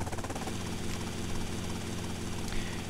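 A helicopter flying in the video game GTA: Vice City makes a loud, continuous rotor-and-engine drone with a pulsing chop that holds steady the whole time.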